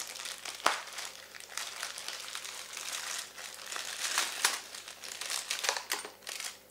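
A plastic bag of Tamiya M05 2CV Charleston RC kit parts is opened, giving close, irregular crinkling and rustling of plastic with a few sharper crackles, alone and fairly quiet.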